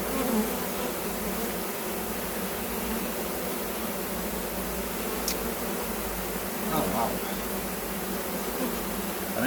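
Honey bees buzzing around an open hive during an inspection, a dense, steady close-up hum with no breaks.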